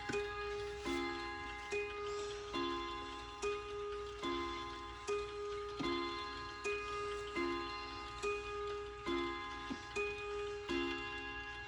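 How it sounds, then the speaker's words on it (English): A cuckoo clock ticks steadily and evenly, its bright tonal ticks repeating at a regular pace alone in a quiet room, with a faint ringing resonance behind each beat. "this one's my first cuckoo clock that I bought"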